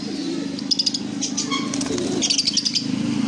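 Pet lovebirds, conures and albino cockatiels for sale fill the space with bright, overlapping chirps and tweets, close and continuous, with a low steady hum underneath.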